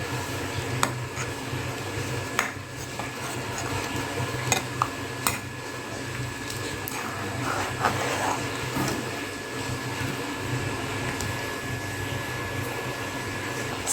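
A spoon stirs and scrapes through a jackfruit seed and cashew masala curry as coriander powder is mixed in, a steady close rustle with occasional light clinks against the pan.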